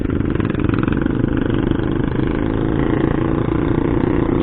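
A Honda PCX160 ABS scooter engine runs steadily up close at a loud, continuous idle-to-throttle hum, with no voices over it.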